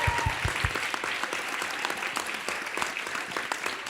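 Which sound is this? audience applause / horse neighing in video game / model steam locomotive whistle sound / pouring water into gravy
audience applause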